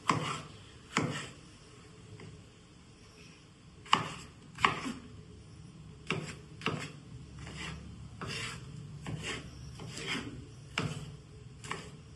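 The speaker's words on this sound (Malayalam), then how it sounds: "ബീൻസ് ആണ് നമ്മൾ കട്ട് ചെയ്തുകൊണ്ടിരിക്കുന്നത്." A knife chops green beans on a board for a simple home vegetable mix, irregular sharp cuts in small bursts over twelve seconds, close and fairly quiet, with no talking.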